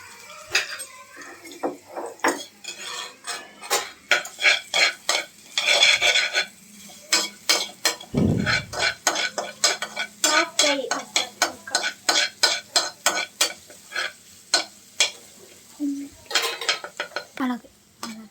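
A utensil stirs food frying in a pan, bringing irregular sharp scrapes and clinks of metal against the pan over a faint sizzle, with one brief low thud midway; no one speaks.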